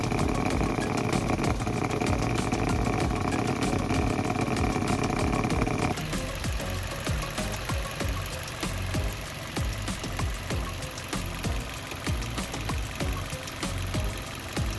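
A three-cylinder car engine runs steadily during a vibration test, giving a close, continuous knocking rumble with a fast pulsing beat; the tone shifts partway through and then carries on evenly, with no voices.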